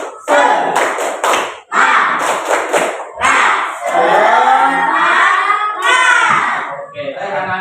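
Children in a classroom doing the rhythmic tepuk semangat spirit clap, bursts of patterned claps interleaved with loud chanted voices, close and energetic, ending in shouted group calls.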